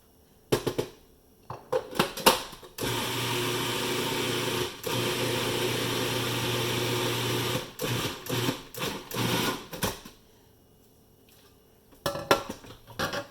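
A kitchen blender running continuously on its on setting to mince onions, loud steady whirring for several seconds, with short pulsed bursts and clatter before and after.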